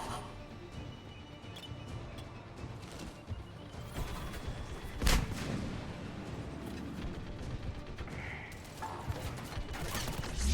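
Turret fire in a Mass Effect 3 game session, a dense run of mechanical rattling and booming blasts with one sharp loud hit midway, continuous and close.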